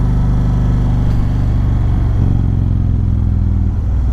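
A 2019 BMW K1600B or 2018 Indian Roadmaster touring motorcycle runs on the road, a loud, close, continuous engine drone with low rumble and slight rev changes throughout.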